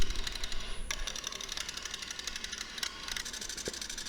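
A woodturning lathe cuts a red mallee burl bowl with a busy, rattling scrape as the tool shaves across the uneven burl. Sharp knocks punctuate the continuous churning texture, heard fairly close.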